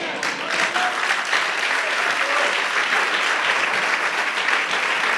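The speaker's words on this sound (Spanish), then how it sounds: "El aplauso está bajito." A church congregation applauding during a sermon, continuous clapping from a crowd filling the whole stretch, moderately loud and even with no talking over it.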